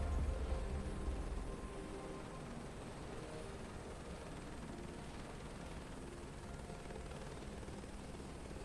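Helicopter in Microsoft Flight Simulator 2024, sitting on the ground before liftoff, gives a steady broadband engine and rotor drone with heavier low thumps for the first second or so, then a constant even roar.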